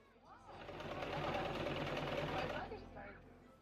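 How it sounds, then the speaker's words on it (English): A sewing machine stitching low-waist cotton trousers runs in a close, steady mechanical whir that swells and fades over a few seconds, with no talk over it. "I sew it all together at the machine"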